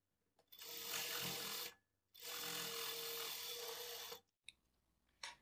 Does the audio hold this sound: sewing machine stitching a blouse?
yes